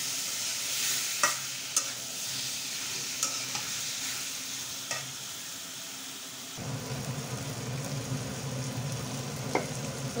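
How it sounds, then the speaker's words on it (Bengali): Fish fry and are stirred in a wok, with a soft, continuous sizzle broken by scattered sharp clinks and scrapes of the spatula; the frying grows louder partway through, and no one speaks. "এবার মাছগুলো দিয়ে দেবো। ভালো করে নেড়ে কষাইয়ে নেব মাছগুলো।"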